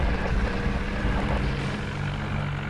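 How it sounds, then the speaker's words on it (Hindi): A modified tractor strains to pull a bus stuck in deep mud, its engine a continuous loud droning roar that holds steady throughout with no voices. "ट्रैक्टर आगे पीछे भाग रहा है क्योंकि पावर बहुत कम लगा रहा है ना"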